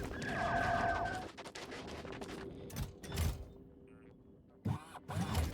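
Rows of gun turrets in Factorio fire a rapid rattling volley for about a second, over a bright electronic tone, followed by scattered mechanical clunks and thumps from the game world.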